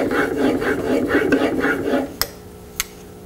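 Plane blade clamped in a honing guide being stroked over a sharpening stone to form a secondary bevel: about eight quick, rhythmic rasping strokes, close and clear, then a couple of light taps as it stops.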